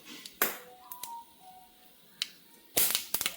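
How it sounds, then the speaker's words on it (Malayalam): Mustard seeds crackle and pop in hot oil, sharp scattered snaps at close range with a brief gap, then a denser cluster of pops toward the end, no voices. "കടുക് പൊട്ടട്ടെ."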